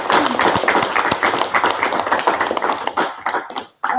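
An audience in a room claps in a lively round of applause, many hands patting at a steady pace before the sound trails off and stops abruptly at the end.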